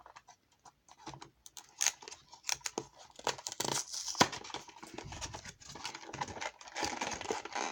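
A trading card structure deck box, the Order of the Spellcasters set, is torn and ripped open up close, with crisp tearing and crinkling bursts and sharp snaps building into steady rustling cardboard and plastic handling.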